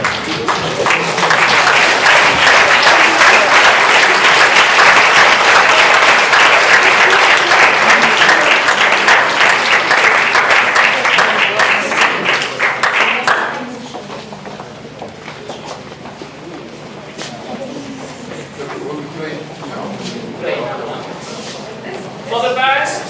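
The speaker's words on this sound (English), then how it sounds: "please can you, all of us, stand up and applaud ourselves" A graduation ceremony crowd stands and applauds, a loud, sustained wall of clapping for about thirteen seconds before it drops off into softer scattered claps and room murmur.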